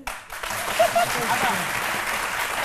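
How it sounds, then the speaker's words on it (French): A studio audience on a live midday television show bursts into steady, dense applause that stays at an even level throughout, with a voice briefly heard over it. "Maman, applaudissez."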